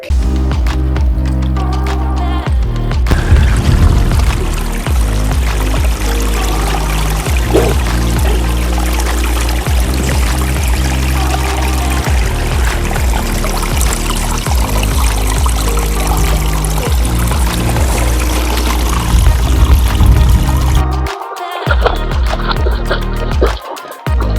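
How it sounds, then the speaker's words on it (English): Creek water flows steadily and loudly outdoors, with a continuous rushing and trickling that runs almost the whole way through before briefly cutting out near the end. "the water was flowing really good in the creek that's over here."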